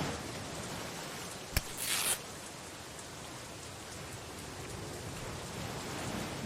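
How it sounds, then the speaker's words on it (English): Rain falls steadily in the video game Chains of Satinav, a soft, even hiss at low volume with one brief sharper hit and a short burst of brighter noise near the start. "It must rain here quite frequently, I guess."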